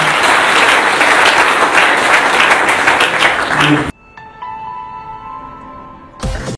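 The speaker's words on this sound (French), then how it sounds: "On acclame très très fort pour le président." A large crowd applauds loudly and steadily for the president, the clapping cutting off abruptly partway through before a brief closing burst of sound.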